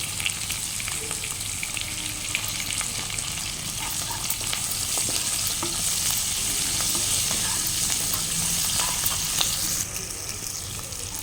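Ivy gourds fry in a pan with onion, green chili and curry leaves, producing a loud, continuous close-up sizzle with light crackling throughout and no talking.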